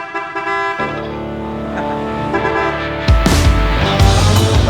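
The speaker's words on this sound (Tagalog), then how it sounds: "Okay, sound check na tayo. Nakapit na ang ating big horn muna." A loud, sustained electric horn on a Honda ADV150 motorcycle blares continuously, its tone shifting partway through as a brasher, louder blast takes over.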